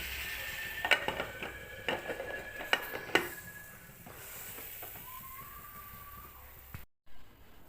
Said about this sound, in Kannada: ಇದನ್ನು ಈಗ ಕುಕ್ಕರ್ ಕ್ಲೋಸ್ ಮಾಡ್ತೀನಿ